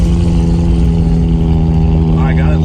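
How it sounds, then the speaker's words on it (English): A 1984 Toyota Tercel with a really loud exhaust runs steadily close by, its deep, even droning rumble holding constant throughout without obvious revving. "Stomper, our 84 Toyota Tercel with the really loud exhaust"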